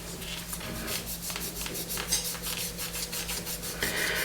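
A plastic part from an Airfix 1:72 Hunting Percival Jet Provost kit is polished by hand, giving a close, steady run of soft rhythmic rubbing strokes with no voices.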